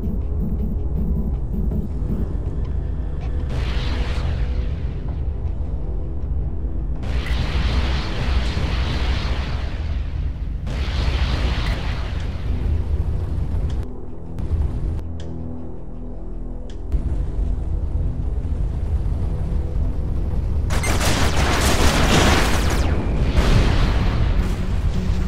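Missiles launched at targets in the space shooter game Everspace, a dense run of loud booming explosions and bursts over a constant engine drone, with a bright, crackling blast swelling near the end.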